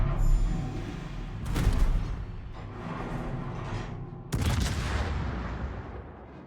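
In World of Warships, ship guns fire in two heavy booming salvos, each a sudden loud blast rolling into a rumbling decay over steady background noise, with no speech.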